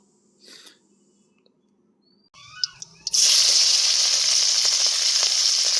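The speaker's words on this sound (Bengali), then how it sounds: "তেলটি গরম হয়ে যাওয়ার পর সেখানে কিছু কালি জিরে দিয়ে দিল।" Nigella seeds drop into hot mustard oil: a few quiet handling noises, then a sudden loud, close sizzle that bursts in and crackles on steadily to the end.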